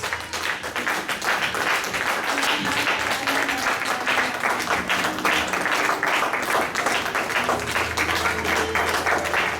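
A congregation at a French Christian gathering applauding to acclaim Jesus Christ, many hands clapping in a steady, loud, continuous wash that fills the room without letup.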